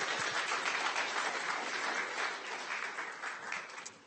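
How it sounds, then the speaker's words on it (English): An audience at an artificial intelligence group meetup gives a round of applause, fairly faint and even, with clapping sustained for about four seconds before tapering off. "give him a round of applause"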